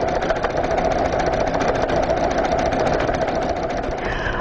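An embroidery machine stitching red thread to fill a scallop shape, a loud, steady, rapid mechanical whir with a fast needle pulse throughout.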